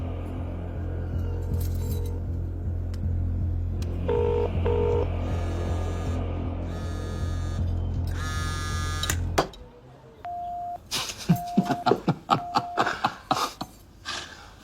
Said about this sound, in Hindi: चल फोन लगा उसे।